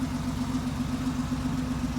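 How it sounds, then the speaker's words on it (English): Steady low exhaust rumble from a 1970s Chevrolet Nova breathing through a Magnaflow muffler, idling close by with an even, continuous drone and no talk. "The car does have a magnaflow muffler, which we'll have you listen to now in just a sec."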